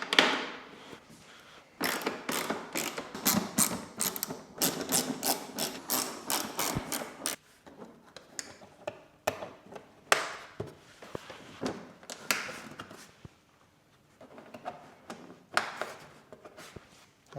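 Bolts on a Honda NC750X motorcycle are tightened with a ratchet, giving rapid runs of close, sharp clicks separated by short pauses and a few single knocks.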